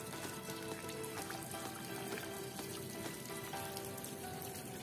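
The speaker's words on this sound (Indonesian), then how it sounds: "ini kita akan siram dengan air" Water poured and splashing over a car's glass window while cleaning off water-spot mould, a steady close trickling and pattering stream running throughout with no talk.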